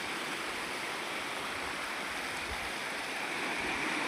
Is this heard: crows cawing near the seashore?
no